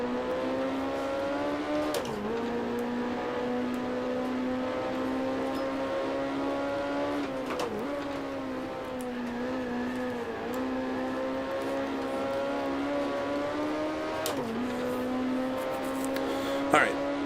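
A Matra F2 race car engine lapping Zolder in Grand Prix Legends holds a loud, steady, buzzing drone throughout. Its pitch climbs slowly, then briefly dips and recovers at a few moments as the car brakes, shifts and accelerates again.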